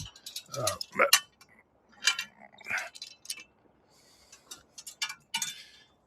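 A log lift on a log splitter swinging over into place, giving scattered metallic clanks, ticks and ratchet-like clicks in uneven bursts, fairly close and moderately loud.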